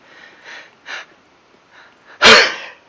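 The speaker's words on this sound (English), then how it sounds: "Oh god, I gotta sneeze." A single sharp, loud sneeze bursts out near the end, preceded by a few soft breaths and sniffs.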